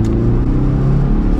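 A modified 2005 Seat Altea with an EGR delete pulls hard in second gear, its engine a loud, steady, close droning rumble with a constant whir throughout.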